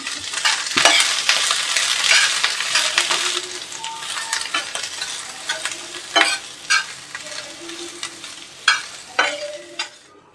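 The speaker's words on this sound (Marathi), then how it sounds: "कांदा जरा लालसर भाजून घेऊया" Onions fry in oil in a pan until reddish, with a continuous loud sizzle and repeated sharp clatters and scrapes from stirring throughout.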